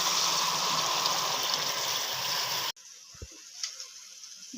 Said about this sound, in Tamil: இப்போ நம்ம தண்ணி வச்சு கொதிக்க வச்சுக்கலாம்